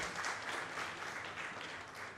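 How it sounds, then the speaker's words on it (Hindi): Guests at a book launch clap to welcome a dignitary, giving a steady, fairly faint patter of applause from a hall crowd that holds for the whole moment. "महोदय का जोरदार तालियों से स्वागत करें।"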